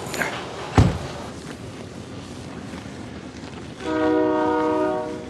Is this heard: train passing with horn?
yes